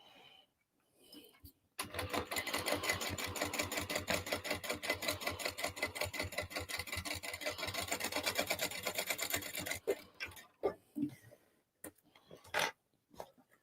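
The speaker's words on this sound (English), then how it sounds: "So this seam is going to get sewn at 3/8 of an inch." A sewing machine stitches a seam at 3/8 inch on a crossbody bag, running in a steady, fast, continuous chatter for about eight seconds, followed by a few isolated clicks and handling knocks.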